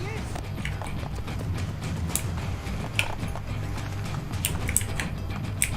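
Rapid clip-clop of horse hooves galloping at a steady pace in Assassin's Creed II, mixed with game noise and a busy low rumble throughout.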